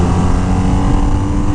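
A 2023 BMW R nineT Pure motorcycle accelerates hard out of a corner, its engine a loud, dense, steady roar heard up close with no talking.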